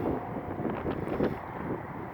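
Strong wind buffeting the microphone at Cajon Pass in California, a low, rumbling gusty roar that swells and eases briefly, close and steady, with no talking.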